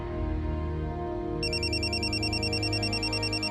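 Telephone rings with a repeating electronic ringtone that cuts in partway, steady and loud over a low background hum, with no voices.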